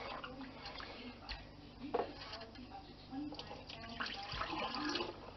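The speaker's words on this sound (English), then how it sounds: "it's time to drain these out." Water from about five pounds of cooked potatoes drains out of a pot, a steady watery gush and trickle with occasional clanks of metal, fairly quiet throughout.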